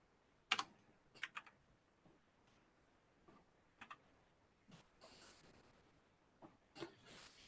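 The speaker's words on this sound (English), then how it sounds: "And if I wanted to download one of them, I could start typing the name of the project," Keys on a computer keyboard are tapped in scattered, sparse clicks and short bursts while a project name is typed, quiet and close, with no voices.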